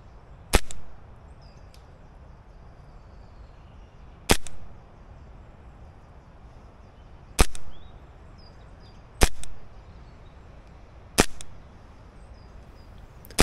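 Five sharp, snappy shots from a Novritsch SSQ22 airsoft rifle ring out outdoors in a light breeze, each a crisp crack spaced two to three seconds apart, with quiet gaps between them.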